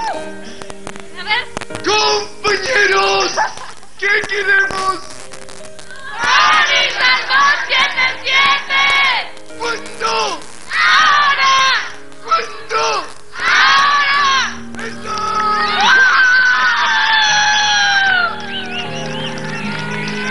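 Cast members at a televised Bolivian dance show shout and cheer together in loud, repeated bursts of crowd yelling and screaming, with a voice speaking between the outbursts.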